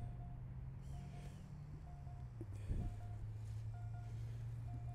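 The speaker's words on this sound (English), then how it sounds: "that's the alarm. It's just telling you to go towards the fence." A DJI GS Pro app geofence alarm beeps in short, evenly spaced tones over a steady low hum from a running drone motor, faint and without voices.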